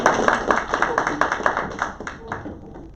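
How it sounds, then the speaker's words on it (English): Audience at a sales talk breaks into a burst of dense, steady clapping that gradually thins and fades out over a few seconds. "so please give some applause for Pete."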